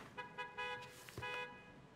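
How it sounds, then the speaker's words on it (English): An Audi's horn sounds from the street below, a few short honks heard from a distance through a room, with faint background noise between them. "Pon Pon, that Audi guy is downstairs honking."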